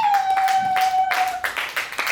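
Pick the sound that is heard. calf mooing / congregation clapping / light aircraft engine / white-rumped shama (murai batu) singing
congregation clapping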